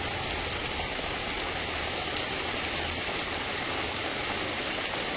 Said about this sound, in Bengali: বৃষ্টি বেশ শুরু হয়ে গেল